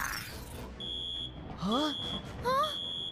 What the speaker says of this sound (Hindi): लगता है ये किसी टाइप का अलार्म है।